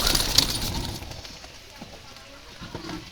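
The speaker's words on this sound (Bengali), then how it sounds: "খুবই সুন্দর কবুতর" Jalali pigeons cooing in a loft, soft low coos near and far with some rustling and a human voice talking over the first second.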